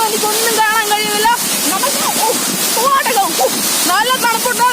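Aruvikkachal waterfall pours down in a loud, steady rush of water close by, with voices speaking and calling over the constant spray.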